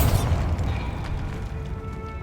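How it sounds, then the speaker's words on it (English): A Bombarda blasting spell in Hogwarts Legacy sets off a deep boom that opens loud and decays into rumbling debris and faint clatter. "Bombarda!"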